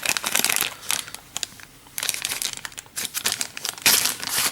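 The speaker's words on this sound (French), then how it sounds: "on va sortir les planches de dépunchage" Cardboard token punchboards for the X-Wing second-edition B-wing A/SF-01 being pulled out of a game box, with bursts of crinkling, rustling packaging and cardboard scraping close up, without talk.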